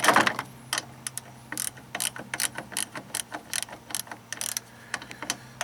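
A hand ratchet clicks in quick irregular bursts while tightening a 10 mm bolt on the plastic windshield washer reservoir of a 1990–93 Honda Accord, close and crisp with no talking.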